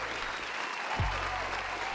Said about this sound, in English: Where's my applause?